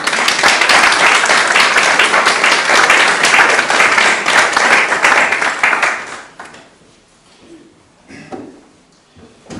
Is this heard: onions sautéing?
no